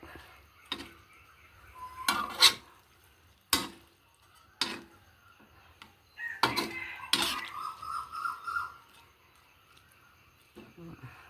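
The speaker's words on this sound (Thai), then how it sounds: "ผัดบวบจ้า" Luffa gourd being stir-fried in a pan, heard as sharp metallic scrapes and clinks of a utensil against the pan. The hits come in spaced bursts over a quiet background, with a faint sizzle in between.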